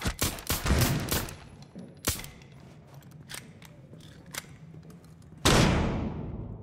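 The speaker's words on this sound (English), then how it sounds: "got explosions above us near the tap" Explosions and gunfire in the tactical shooter Rainbow Six Siege, a burst of sharp blasts at the start, scattered thuds and cracks, then a loud booming detonation that rings out and slowly decays.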